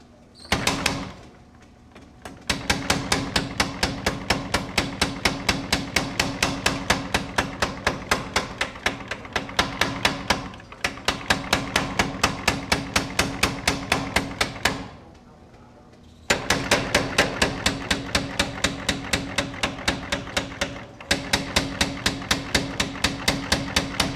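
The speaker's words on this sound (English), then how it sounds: "we're just going to planish" Rapid, evenly spaced hammer blows planish metal at a low heat, ringing in long steady runs with brief pauses between bursts, close and loud.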